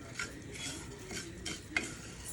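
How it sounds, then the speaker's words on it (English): Spoon stirring a kasha mixture seasoned with salt and pepper in a kitchen, soft scraping and clinking against the pot with one sharper knock, alone and close. "A little salt, pepper, very little pepper, but according to what you like. And I'm just gonna mix it."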